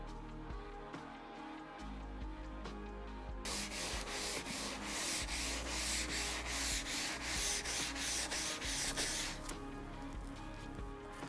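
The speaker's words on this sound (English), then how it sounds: "we'll use our first nylon brush, scrub the ski to help clean it" A nylon brush scrubbing the wet base of an alpine ski: rapid, rhythmic back-and-forth bristle strokes, close and fairly loud, starting after a few seconds and continuing steadily.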